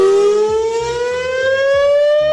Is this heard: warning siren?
yes